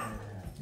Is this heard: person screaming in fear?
no